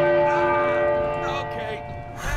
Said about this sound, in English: we got a turny thing here to ring the bell